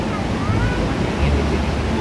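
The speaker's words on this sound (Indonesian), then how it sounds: "Airnya lagi gede banget ya, guys." Strong irrigation water rushing through a rice field channel, a steady loud broadband roar and splash with no break, close to the microphone, with faint wind buffeting.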